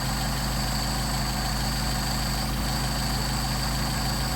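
A Mercedes 190SL engine idling on twin Solex 44PHH carburetors, a steady low rumbling drone with even throb, loud and close, with no talk.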